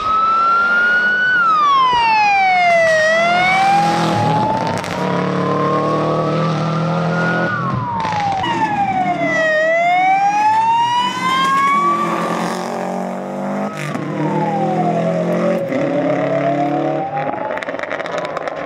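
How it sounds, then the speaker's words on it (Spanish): A Subaru zero car runs a stage of the 2023 Rally de Asturias Histórico, its engine loud and close, revving up and down in repeated sweeps through gear changes as it passes. "con el coche cero, con su Subaru"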